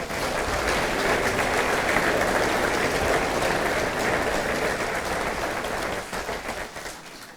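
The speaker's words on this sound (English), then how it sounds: "Would you please give them all a round of applause?" An audience at an electric cooperative annual meeting applauds the employees, a broad, sustained wash of clapping that stays full for several seconds before thinning and fading toward the end.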